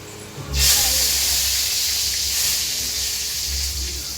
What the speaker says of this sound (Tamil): கடுகு பொரிஞ்ச அப்புறம்